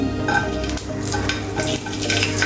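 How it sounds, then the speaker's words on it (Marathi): Seven or eight garlic cloves frying in hot oil in a pan, a loud steady sizzle and crackle with faint stirring scrapes, close up and uninterrupted by any voice. "7 ते 8 अशा आपल्या लसणाच्या पाकळ्या टाकते आहे तेलामध्ये आणि ते मिनिटभर असं छान असं त्याच्यात परतून देणार आहे."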